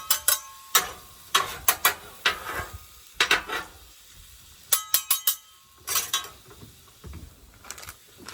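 Steak and onions on a Blackstone griddle, with bursts of sizzle and scraping spatula strokes coming in irregular clusters separated by quieter gaps, close and moderately loud.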